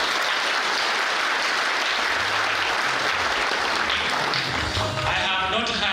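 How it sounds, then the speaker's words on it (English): Dense audience applause for the governor at a public lecture, loud and continuous, with a voice emerging over the clapping near the end. "Can we give him a round of applause?"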